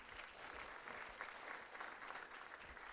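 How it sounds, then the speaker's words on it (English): An audience applauds steadily at a chamber of commerce morning event with the mayor, a sustained clap honoring an absent colleague, with no talking over it. "So we'll give a special clap to him too."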